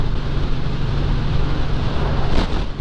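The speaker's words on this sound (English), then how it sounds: "that wind gust was insane" A strong rush of wind buffets the microphone, a loud continuous roar that swells briefly near the end.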